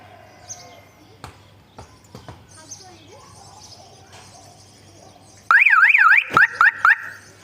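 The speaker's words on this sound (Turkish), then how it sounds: "Ama ne yazık ki bir şey yapmadan alarm devreye giriyor." A Fiat Uno car alarm blares suddenly, triggering on its own, rapid warbling siren tones followed by short repeated bursts, loud after quiet background noise and faint talk.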